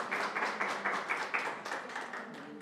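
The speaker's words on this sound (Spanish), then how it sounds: "un aplauso para Ale, por favor" A small audience applauds at a talk on Bartolomé de las Casas, a steady wash of many hands clapping with rhythmic pulses, fairly close and lasting the whole moment without voices.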